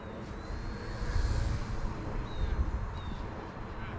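An Eachine E119 six-axis gyro RC helicopter rushes past at full speed, a steady whirring rotor and motor hum with a brief high whine, fairly close against outdoor wind noise.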